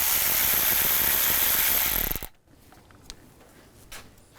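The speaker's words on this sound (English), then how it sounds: "Taking this bracket off, we're going to use a 11mm socket." A hand ratchet turns an 11mm socket to loosen a nut on a bracket of a 2001-2006 BMW 325xi. It makes a dense, rapid clicking rasp for about two seconds, then stops, leaving faint workshop noise.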